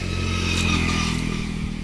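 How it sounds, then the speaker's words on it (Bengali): A motorcycle by a roadside, its engine running close by with a steady low throbbing idle and a faint mechanical clatter, alone without voices. "এই যে মোটর সাইকেল"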